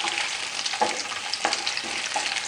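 Chicken stir-frying over a high flame, a steady bright sizzle broken by a few sharp scraping stirs at regular intervals, close and loud with no voices.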